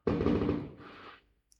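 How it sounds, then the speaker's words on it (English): Fireworks on the first day of Lunar New Year go off as a rapid crackling burst, like a string of firecrackers, loud at first and then fading into a softer second crackle before falling quiet. "you hear the fireworks?"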